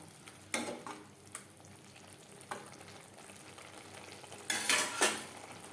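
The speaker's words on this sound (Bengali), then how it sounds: "লবণ হলুদ পেঁয়াজ মশলার সাথে বেশ ভালো করে মিক্সড করে দেবো" Rui fish is tossed with salt, turmeric, onion and spices in a pan, giving quiet scraping and stirring noises from a utensil, with a few louder bursts of movement against a low sizzle.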